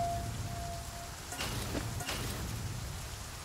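Rain in the video game The Flame in the Flood, a soft, steady patter over a low rumble with a few faint clicks, quiet and continuous, no voices.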